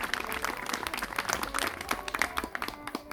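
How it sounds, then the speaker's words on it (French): Wedding guests at a secular ceremony applauding the best man; scattered, uneven clapping from a modest group, individual claps audible, moderately distant and thinning out toward the end. "Vous pouvez applaudir, hein, vous pouvez y aller."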